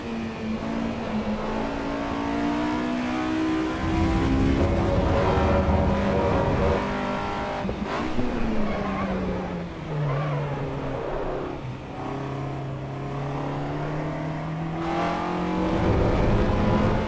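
A Mini Cooper B16 in the Assetto Corsa EVO racing game revs hard and continuously, its engine note climbing and dropping through gear changes, loud and close with no talk over it.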